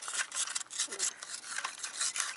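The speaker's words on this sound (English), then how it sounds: "I'm gonna scrape off this stuff right here, because we don't really need it" Dirt is scraped off a part during a degreaser test, making a faint, close, gritty rubbing and rasping in short irregular strokes, with no voices.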